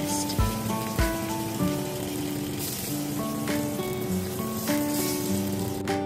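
Steady crackling sizzle of chicken frying in hot oil in a pan, a continuous hiss under soft background music with a few louder pops.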